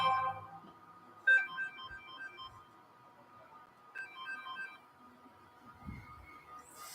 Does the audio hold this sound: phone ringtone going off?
yes